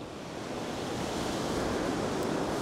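Ocean waves break on a beach where someone is surf fishing, a steady, close, full roar of surf rolling without pause from start to end.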